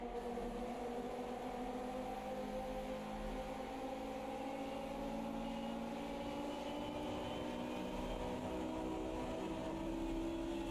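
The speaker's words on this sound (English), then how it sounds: "I don't think these German Group A cars were made to do oval racing, which is probably why they sound a bit second-hand now." German Group A touring car engine droning continuously on an oval track in the Automobilista 2 racing game, a steady high-revving tone with shifting pitch and no pauses.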